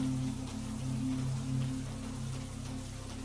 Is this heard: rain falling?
yes